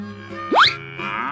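A cartoon cow gives a single short, loud moo that sweeps sharply upward in pitch, then settles into a steady tone.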